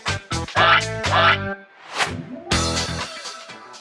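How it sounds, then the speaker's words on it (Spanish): Loud honking sound effect, a goose-like call repeated several times in quick nasal bursts, standing alone without speech. "¡Que suene el ganso!"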